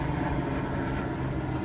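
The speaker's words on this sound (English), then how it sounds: "this helicopter" A helicopter flies overhead, giving a steady, moderately loud broadband engine and rotor drone through the short moment, with no talk.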